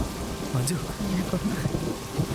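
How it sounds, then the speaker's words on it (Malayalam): Heavy rain pours down in a dramatic film scene, a dense, loud, continuous hiss throughout while a voice calls out over it. "എന്താ മോളെ മഴയത്ത് നനയുന്നേ?"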